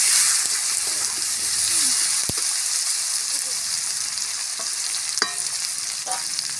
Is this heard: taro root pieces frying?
yes